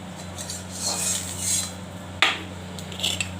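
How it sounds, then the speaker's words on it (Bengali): A utensil scrapes and clinks against a frying pan as onions and chillies are stirred, with soft rubbing strokes and one sharper metallic knock, heard alone and fairly quiet. "এবার পেঁয়াজটা নেড়ে নিচ্ছি।"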